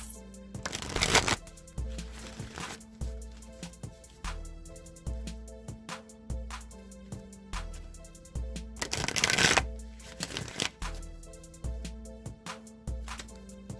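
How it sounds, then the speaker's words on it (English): A Wisdom of the Oracle card deck is shuffled by hand in several bursts of riffling and sliding cards, close and fairly soft, with music playing quietly underneath. "So I'll just give them a few shuffles."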